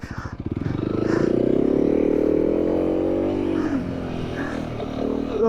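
A motorcycle churns through deep sand, its engine a loud, close, labouring drone that climbs in the first second and then holds strained and steady.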